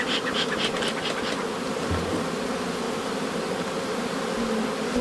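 A steady, dense buzz of honey bees hums close to a hive through summer heat, continuous and even throughout, with a few faint clicks at the start.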